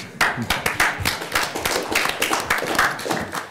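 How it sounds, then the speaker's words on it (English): Clapping from a small group at a county water agency board meeting, a brisk scattered round of hands lasting a few seconds, fairly close and alone without talk. "I think that's worth a round of applause."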